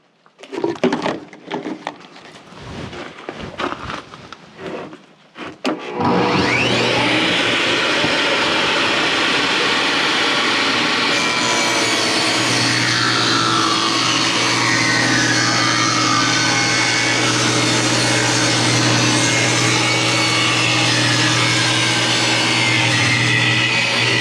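A power saw cutting 3/4 inch plywood while running off a Bluetti AC200P power station through a 10 gauge extension cord. A few quiet knocks come first, then the motor spins up into a loud, steady, sustained cutting whine that holds to the end.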